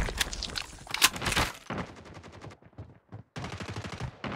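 Rapid automatic gunfire in a COD Mobile team deathmatch, loud and close in sustained bursts, with a short lull before the shooting resumes.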